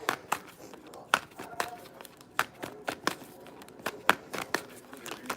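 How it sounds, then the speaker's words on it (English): Quick, irregular snaps and flutters of tarot cards being handled and shuffled, close up, with no talking. "I'm going to shuffle 2 more times."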